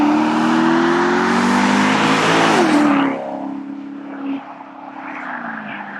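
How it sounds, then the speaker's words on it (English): A Maserati GranTurismo S with its Ferrari-derived, naturally aspirated high-revving V8 screams loudly as it climbs through the revs, then the note drops sharply and settles into a quieter, fading engine drone. "you have an awesome Ferrari-derived V8 naturally aspirated high revving engine"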